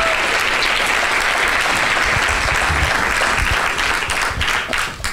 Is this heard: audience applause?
yes